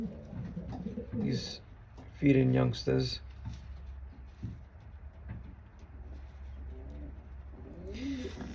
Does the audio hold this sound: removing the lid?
no